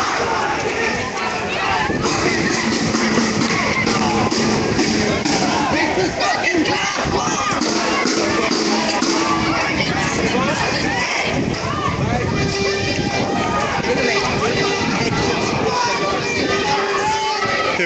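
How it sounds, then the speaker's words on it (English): An angry protest crowd chants slogans in the street during an evening demonstration, a dense, loud wall of shouting voices that keeps going throughout with no pauses. "impassioned and angry slogans being called right now"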